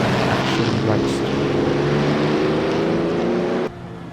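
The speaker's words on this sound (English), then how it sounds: "We've loaded the 1950 Ferrari 125 into the simulator at a vintage 1950 Silverstone" A 1950 Ferrari 125 racing at a vintage 1950 Silverstone in a racing simulator: a loud, steady engine roar with buzzing harmonics that drops off abruptly near the end.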